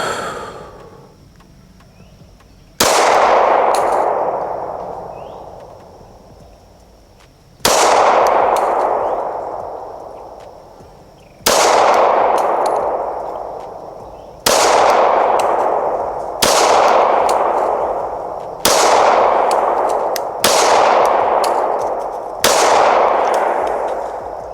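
Eight loud handgun shots at a shooting range, each a sharp crack followed by a ringing decay. They are spaced a few seconds apart at first, then come more quickly.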